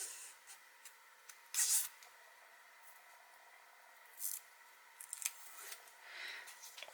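Faint, close scissor snips cutting a length of ribbon for a 6x6 mini album, a few brief crisp cuts separated by quiet handling rustles.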